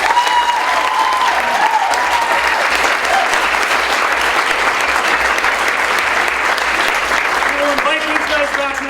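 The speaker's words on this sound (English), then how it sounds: "Another round of applause" A crowd at a school idea talk gives a steady round of applause that runs throughout, with voices faintly audible underneath.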